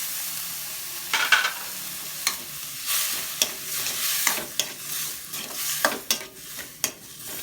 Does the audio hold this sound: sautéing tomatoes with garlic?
yes